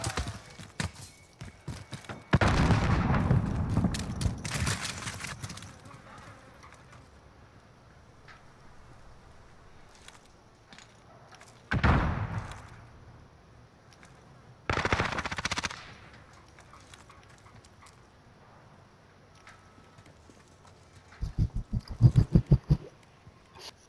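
Bursts of rapid gunfire crack out in a video game, a long loud volley early on, then two shorter separate blasts and a final quick flurry of shots near the end, with quieter stretches between.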